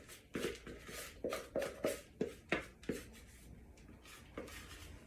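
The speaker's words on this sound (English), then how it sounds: "Flatten it out so it has a chance to cook evenly" Sticky granola mixture with honey and vanilla gets pressed and spread flat on a baking tray, making a series of soft, close scraping and rubbing strokes in an uneven rhythm, with no talk.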